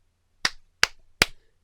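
Three sharp hand claps marking an edit point ring out alone in quiet, evenly spaced, each a crisp, close smack.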